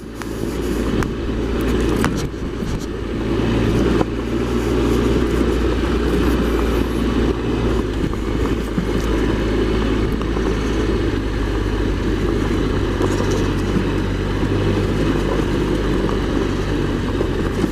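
A Triumph Explorer XCa motorcycle engine drones steadily and loudly throughout while riding, with low rumbling and wind noise, a few sharp clicks near the start.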